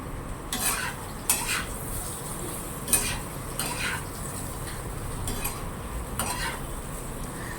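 Vegetables being stirred in a cooking pot, including fresh drumstick (sajne data) of the season, with a series of scraping spoon strokes against the pot over a low steady background.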